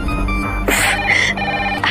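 A telephone rings in a Hindi TV drama scene, with repeated electronic tones over a steady low hum, fairly close and clear with no talk over it.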